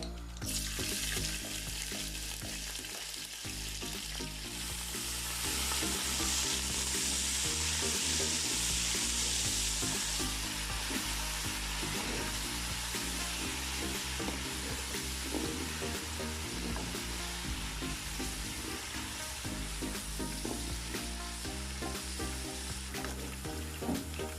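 Garlic and ginger paste fries in hot oil with a continuous sizzle and crackle, close up, with occasional stirring scrapes and no voices.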